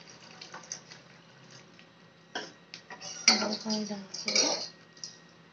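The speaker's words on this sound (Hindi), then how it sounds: "पानी इसमें इसलिए डालते हैं कि ताकि ये इसमें जब हम इसके ऊपर डालेंगे ढोकले के ऊपर तो थोड़ा रसदार हो जाएगा" Water poured into a hot dhokla tempering in a kitchen pan, a brief sizzling splash with some clinking of utensils, quiet and close, alongside someone talking.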